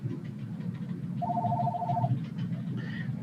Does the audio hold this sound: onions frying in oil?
no